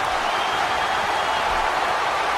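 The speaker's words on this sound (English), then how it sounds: "Would you listen to this crowd show their appreciation for these amazing competitors?" A crowd applauds steadily in the WWE 13 wrestling video game, a dense, even wash of clapping that holds throughout without clear talk.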